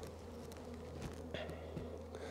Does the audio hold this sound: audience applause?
no